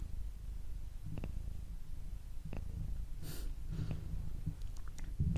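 Close, low rumbling purr from a pet cat, steady beneath a few soft snorts, breaths and small mouth sounds.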